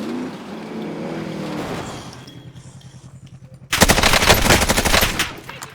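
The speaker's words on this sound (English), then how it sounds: "Who are you shooting?" Rapid automatic gunfire in a video game bursts in suddenly after a stretch of quieter engine-like rumble and a brief voice, the shots loud, close and continuous in a fast rattling rhythm.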